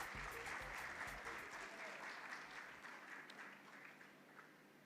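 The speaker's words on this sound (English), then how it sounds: "Can we give them a big round of applause?" Audience applause at a motorsport awards ceremony, a burst of steady clapping from a crowd that slowly fades, heard at a distance and fairly quiet.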